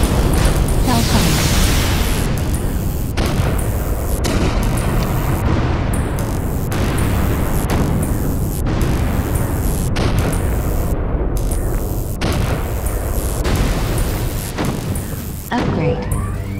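Hellfire strike explosions in the video game Defense Zone 2 boom in a loud, continuous barrage of heavy blasts over about sixteen seconds, with a game voice announcement at the start.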